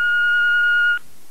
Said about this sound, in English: If you want to leave a message for Bebe, leave it after the beep.